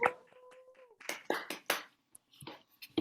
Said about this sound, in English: please join in unmuting and giving a huge round of applause for Sasha